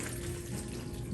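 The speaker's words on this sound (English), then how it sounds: "We'll add some water." Water pours steadily from a tap or container into soil mix for winter sowing seeds, a continuous close splashing trickle running alone for just over a second.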